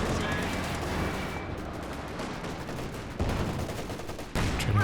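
Long-range tank duel in Company of Heroes 2, a US Easy 8 Sherman against a German Panzer IV: dense, continuous gunfire and explosions fill the mix, with sharper loud shots toward the end.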